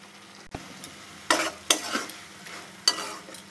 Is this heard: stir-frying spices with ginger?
yes